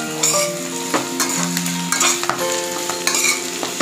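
Vegetables, including chopped Chinese lettuce, are stirred and tossed in a wok over a high flame, with steady sizzling frying under repeated scraping and clattering strokes, close and loud throughout.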